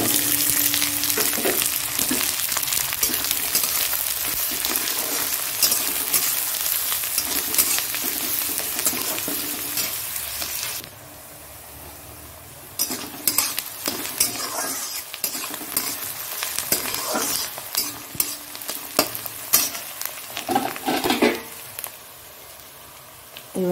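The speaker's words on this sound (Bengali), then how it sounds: "এবার পেঁয়াজটা দিয়ে দেবো।" Onion frying and sizzling in a pan with steady hissing, broken by the scrape and clatter of stirring utensils against the pan, close and fairly loud, with a brief quieter stretch midway.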